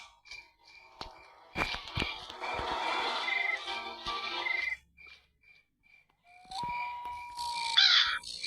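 A crow caws in the horror video game Granny 3: harsh, raspy calls crowd the first few seconds, followed by a quiet gap and then a brighter electronic tone near the end.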